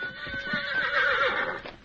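Victor, the Lone Ranger's horse, lets out a single loud, close neigh with a rising and falling whinny, and faint hoof clops sound beneath it.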